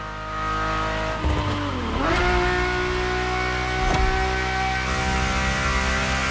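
Ferrari supercar engine from the in-car view in the racing game The Crew Motorfest, a loud steady drone with rising and falling revs and gear shifts, alone without voices.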